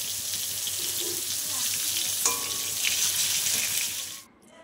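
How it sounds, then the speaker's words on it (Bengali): Pointed gourd and cardamom fry in hot oil, a steady, close hiss of sizzling that runs evenly before cutting off near the end. "পটলটা আর একটু ভাজা হবে, আর ততক্ষণ এলাচটাও এই তেলের সাথে ভাজা হয়ে গন্ধ ছেড়ে দেবে"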